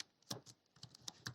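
Quick, light clicks of keys on a computer keyboard tap out in an uneven run close by, while a query condition is entered in a PostgreSQL editor.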